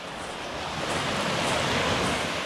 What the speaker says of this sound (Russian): Вот море сегодня, видите, штормит, такой небольшая волна.